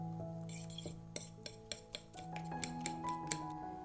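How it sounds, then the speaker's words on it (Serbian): A utensil stirs grated hard cheese into beaten eggs in a bowl, giving a run of quiet scraping strokes and sharp clinks against the side at an uneven rhythm, with no voices. "sve ćemo to promešati da se sjedini sa jajima"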